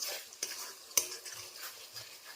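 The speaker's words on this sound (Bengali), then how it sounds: "মশলাটি তেলটা ছেড়ে দিয়েছে এবং অনেকক্ষণ কষাতে হবে" Spice paste for a Bengali katla fish malai curry is stir-fried in oil, with soft intermittent scrapes and one sharper clink of the spoon against the pan over a faint sizzle.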